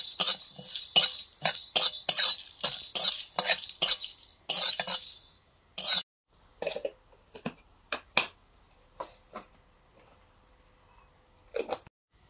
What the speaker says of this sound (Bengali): গোটা মশলাগুলো ভেজে নিচ্ছি।